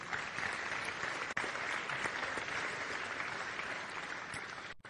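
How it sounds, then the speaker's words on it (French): Sustained audience applause fills a ceremony hall, a dense steady wash of many hands clapping for absent honorees, continuing evenly for several seconds before cutting off abruptly at the end. "Merci quand même de les applaudir."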